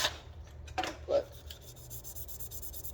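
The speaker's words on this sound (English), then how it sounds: "I got a metal finishing set and then a cleaning and stripping pad, which is just a bit coarser" An abrasive cleaning and stripping pad rubs across a metal gun slide in a few short, scratchy strokes, close and quiet, followed by a faint buzzing hum.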